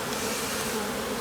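Honeybees swarm around a busy hive in February, a dense, steady buzzing drone filling the brief moment without pause.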